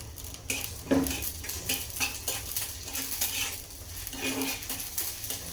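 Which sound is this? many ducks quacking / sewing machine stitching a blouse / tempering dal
tempering dal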